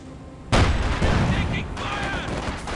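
Battlefield gunfire in Company of Heroes, a sudden loud burst of rifle and artillery fire that rolls on densely for a couple of seconds, with a soldier's voice shouting over it.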